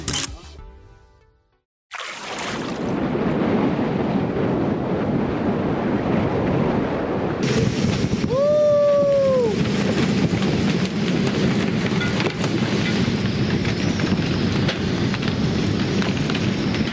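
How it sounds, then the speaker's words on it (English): Strong hurricane wind of 50+ knots roars steadily against the microphone aboard a sailboat for most of the stretch, with a brief quiet gap near the start and a voice-like whoop partway through. "It is windy already today"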